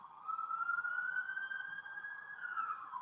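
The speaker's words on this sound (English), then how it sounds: "The sirens are here." A police siren wails with a single sustained tone that slowly rises and then falls away, heard at a moderate distance and alone.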